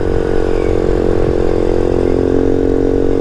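A Honda CT70 clone small motorcycle engine running steadily in fourth gear, a loud close buzzing drone with constant pitch and a slight rattling texture throughout, no voices.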